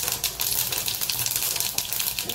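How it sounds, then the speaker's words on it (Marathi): Mustard seeds crackle and pop in hot oil with a little cumin, giving a dense, steady sputter of quick close-up snaps over a constant sizzling hiss. "तेल आपलं तापलेलं आहे. याच्यात मी ही मोहरी घालते."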